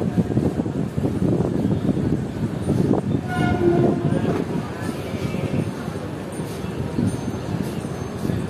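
A train pulls out of platform 5 at Bardhaman Junction with a steady rumble of rolling wagons, and its horn sounds in a long blast partway through, heard up close from on board.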